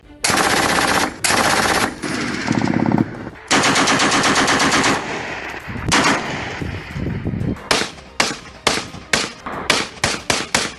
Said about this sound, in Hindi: पाकिस्तानी पोस्टों पर बिला इश्ताल फायरिंग की गई